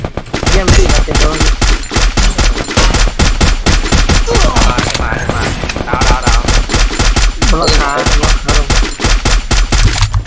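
Rapid automatic gunfire in a shooting video game, loud dense bursts of shots throughout with voices talking over the gunfire.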